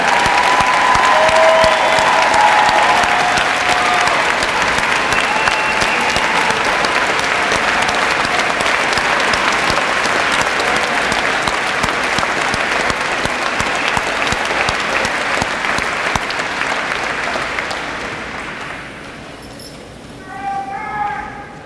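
Sustained applause from a large graduation crowd honoring graduates heading into military service, loud and steady for about twenty seconds before fading, with a few voices near the end.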